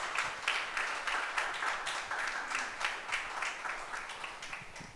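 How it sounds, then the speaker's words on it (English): An audience at an International Women's Day session applauds, a sustained dense round of clapping at moderate distance, steady for several seconds and tapering slightly at the end. "Just a loud round of applause."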